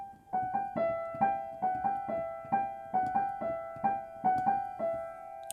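Piano notes played with the sustain pedal held down strike in a steady, repeating pattern, and each note rings on and blurs into the next for a washy effect. The playing is quiet, close and solo, with no voices.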